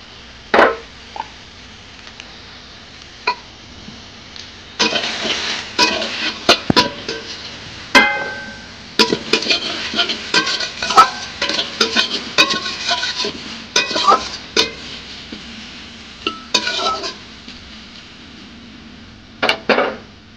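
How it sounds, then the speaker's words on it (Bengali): Salted bitter gourd from a home garden goes into a wok and is stirred, giving sharp scraping and clattering knocks of a utensil against the pan in irregular bursts, close and loud. "কড়াতে দিয়ে দিচ্ছি।"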